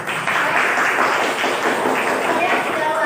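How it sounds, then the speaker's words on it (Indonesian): A classroom of students applauding together, steady close clapping for about three seconds with light crowd noise and some voices underneath. "applause dulu untuk kita semua."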